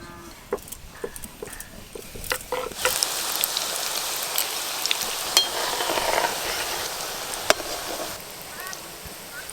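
Rose-shaped pitha sizzle steadily in hot oil, a continuous crackling fry with occasional pops and stirring clicks, growing denser midway.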